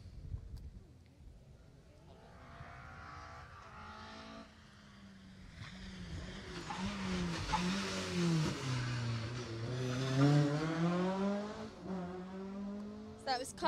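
A rally car passes on a closed Jersey Rally stage, its engine rising to a loud revving peak as it sweeps by, then fading, under a commentator's continuous talk.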